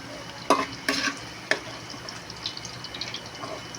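Potatoes frying in a pan for puchero, a soft steady sizzle with a few louder stirring scrapes near the start, close and alone with no talk.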